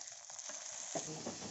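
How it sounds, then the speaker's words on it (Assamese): Fish frying in a pan of hot oil, a short close-up burst of bright, hissing sizzle that thickens with crackles partway through. "মাছটো এজনীকে এনেকুৱা দি মেলি ফ্ৰাই কৰি ল'ম।"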